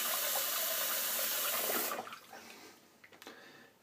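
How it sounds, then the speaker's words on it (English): A tap runs steadily onto a razor blade being rinsed with hot water, a loud, close wash of water that cuts off after about two seconds, followed by faint drips and small handling knocks. "I had to do a little bit of rinsing there, so get some heat in this blade"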